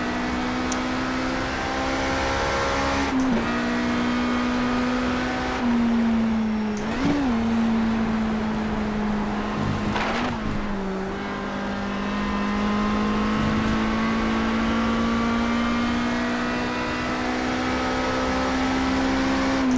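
A GT race car engine in the sim racing game World Racing Series drones steadily at a sustained pitch, with a few brief dips and recoveries like gear shifts, and no voices.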